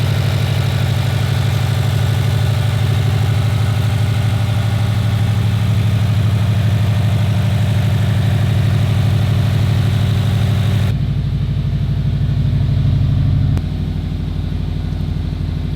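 A Subaru WRX wagon, a budget build just brought back to running order while throwing a check engine light, idles steadily with a deep, even drone close by, then drops to a lower, quieter note near the end.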